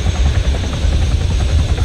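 An ArmA 3 helicopter sounds close and loud, its rotor giving a dense, rumbling, continuous thrum with no speech over it.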